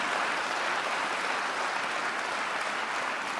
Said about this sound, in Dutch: Dan geef een applaus aan de Heer.